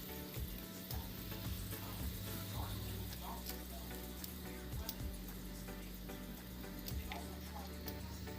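Mackerel fries in hot oil with curry leaves in a Kerala-style pan, giving a continuous close sizzle with scattered pops and crackles throughout.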